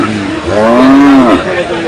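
A cow at a cattle market gives a single loud, drawn-out moo that rises and falls, with the crowd's murmur filling the background.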